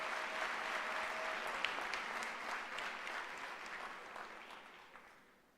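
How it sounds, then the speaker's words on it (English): Sustained applause from a crowd at the UNISA 150th anniversary celebration in 2023, dense clapping that stays steady for several seconds and then fades out near the end. "please another round of applause for our Chancellor"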